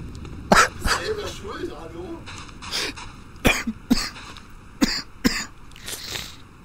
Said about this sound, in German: Oh, ich muss lachen, aber da muss ich husten.